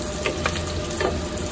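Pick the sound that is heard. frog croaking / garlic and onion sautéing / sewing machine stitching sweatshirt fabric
garlic and onion sautéing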